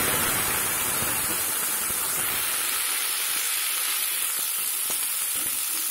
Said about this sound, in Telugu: ఇవి కూడా ఒక నిమిషం వేయిస్తే మెత్తబడతాయి